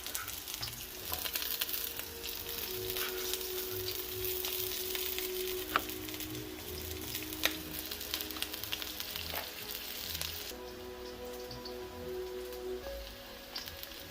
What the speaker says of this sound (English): I'm going in with the white onions first.